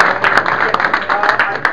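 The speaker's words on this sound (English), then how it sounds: "round of applause" Audience applause at a talk on the Middle East crisis, dense overlapping hand clapping with sharp peaks, fairly loud and steady throughout.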